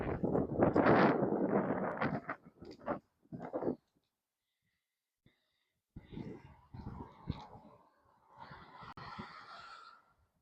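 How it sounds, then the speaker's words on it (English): Gusts of wind buffet the microphone in rough bursts at a train yard, breaking off into quiet gaps before returning as uneven, breathy rushes of noise. "It's getting pretty windy. I'm sure you can hear it."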